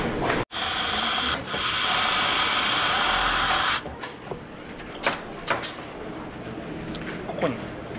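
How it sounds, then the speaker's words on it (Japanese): An overlock sewing machine in an Okayama denim factory runs in a steady, loud whir for a few seconds, then stops, leaving quieter workshop clicks and knocks behind. "このほつれ止めのためにロックミシン、"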